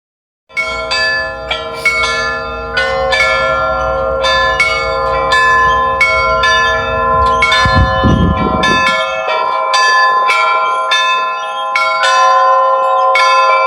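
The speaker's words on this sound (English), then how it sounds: "The bells we just heard" Church bells ring in a loud, rapid, overlapping peal of many strikes that begins suddenly and carries on with ringing, sustained tones throughout.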